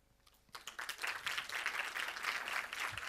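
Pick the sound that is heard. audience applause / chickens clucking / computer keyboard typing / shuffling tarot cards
audience applause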